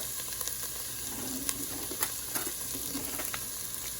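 Tomato paste frying in a soup pot for chicken vegetable soup gives a steady close sizzle, with small sharp crackles and pops breaking through the hiss, and no one talking.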